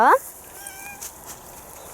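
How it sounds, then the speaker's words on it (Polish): A small cat in a spring garden gives one short, loud meow at the very start, followed by faint, quiet background sounds. "Jaki fajny kotek przyszedł."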